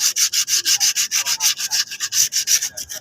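An old motorcycle part is sanded by hand with quick, rhythmic rasping strokes, loud and close, about four per second and alone.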